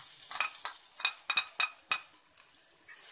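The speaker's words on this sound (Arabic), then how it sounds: "وابتدي ان انا اشوح كده في الثوم شوية" Garlic frying in about two spoonfuls of hot oil in a pan, stirred with a utensil that scrapes and clinks against the metal in a run of short, close taps over a soft sizzle, fading to a quiet fry.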